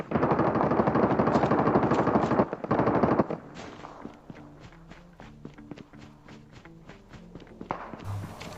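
Call of Duty Mobile plays a loud, rapid burst of automatic gunfire up front, then quieter scattered shots and footsteps patter in the background, with no talking.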